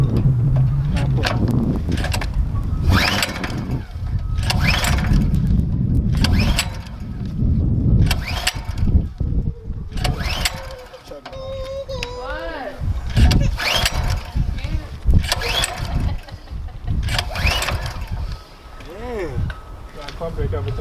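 A racing minibike's small engine being pull-started: repeated rough bursts of cranking and sputtering, close and loud, with people talking throughout.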